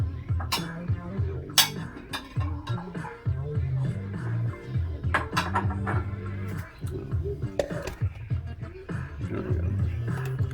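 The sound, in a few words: bowl being handled and set down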